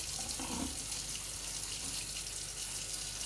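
Tap water runs steadily into a sink while a slow juicer is washed with a little water and dish soap, a constant close hiss with faint clinks near the start.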